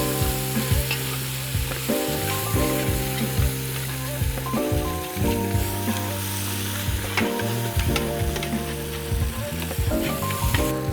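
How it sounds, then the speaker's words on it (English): Curry chicken frying in oil in a pan, a loud constant sizzle with repeated scraping and stirring clatter from a utensil against the pan throughout, no voices. "We're still at a point where we're frying and getting flavor."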